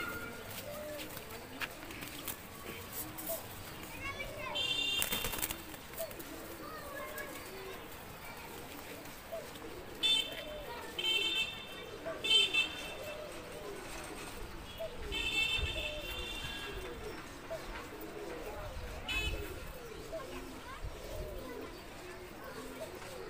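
Pet pigeons coo softly now and then in the background while people talk over them nearby, with a few brief louder rustles and bird calls.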